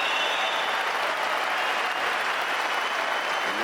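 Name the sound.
crowd applauding at a table tennis match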